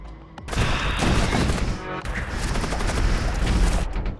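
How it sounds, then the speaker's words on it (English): Weapons fire in a spaceship battle in the video game Void War, a loud sustained barrage of rapid crackling shots and booms that starts abruptly and continues with a brief dip midway. "Why are they still firing their weapons?"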